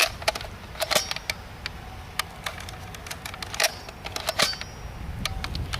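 A Nerf Max Force Rattler blaster fires darts at angled shots, giving a string of sharp, close plastic snaps spaced irregularly over a faint background hiss.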